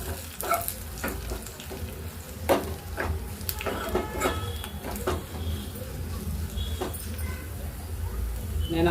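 Ingredients frying in oil in a pan for a Telugu-style pappu tomato curry with garlic, a steady sizzle under scattered ladle scrapes and stirring clatter at close range.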